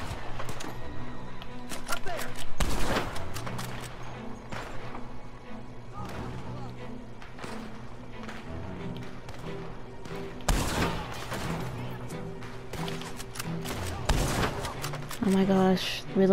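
Gunfire in Red Dead Redemption 2 during a fight with Pinkertons, several loud sharp shots scattered among game sounds, horse hooves and a music bed, with voices talking in between.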